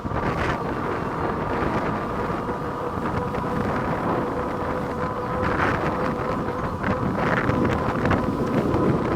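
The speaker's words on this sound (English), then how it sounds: "I'm pedaling into the wind now. Definitely a strong headwind." Strong headwind roaring across the microphone while riding a Kingbull Rover e-bike at speed, a loud, continuous buffeting rush that swells slightly near the end, with no voices.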